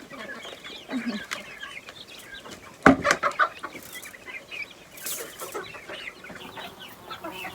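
Chickens cluck and squawk in a farmyard at feeding time, a busy scatter of close calls with a louder burst of flapping and squawking midway.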